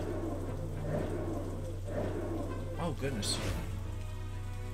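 Rain in the video game Banner of the Maid, a steady hiss under a low constant hum, with a brief exclamation spoken over it.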